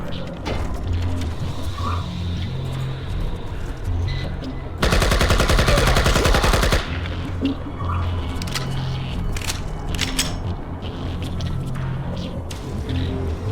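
Rapid automatic gunfire in the video game IGI, a loud sustained burst of about two seconds in the middle, with quieter game sounds and mechanisms before and after.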